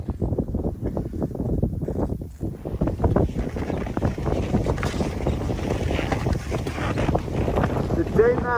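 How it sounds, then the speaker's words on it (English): Steady wind buffets the microphone with a constant low rumble at a cold outdoor campsite, and a voice talks intermittently over the gusty noise. "A little bit windy."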